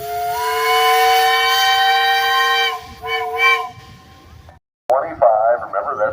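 A steam engine whistle blows loud and steady at a parade, then stops; a few seconds later a chopped-up second blast follows, with talk in the crowd.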